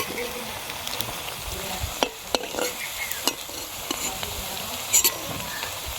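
Radish pakoras fry in hot oil, a steady close sizzle with occasional sharper pops and crackles as they are turned.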